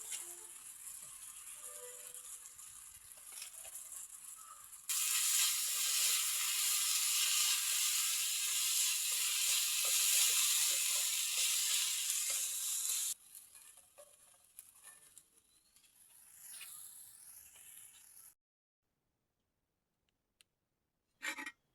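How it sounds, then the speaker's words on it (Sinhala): Chili paste mixed with soy sauce and sugar fries in oil in a village kitchen, a loud broadband sizzle that swells mid-way, holds steadily, then tapers into quieter scraping and stops. "මේකට මම සෝයා සෝසුයි සීනි එකතු කරලා තෙල් වල පොඩ්ඩක් බෙද ගන්නවා."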